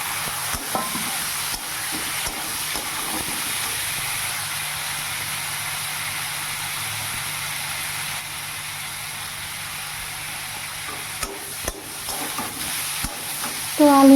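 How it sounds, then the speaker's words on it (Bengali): Cumin and coriander powder with tomato and green chili sautéing in a pan, a steady low sizzle with occasional spatula scrapes and taps throughout, fairly close and even in level. "ভালো করে কষিয়ে নেব।"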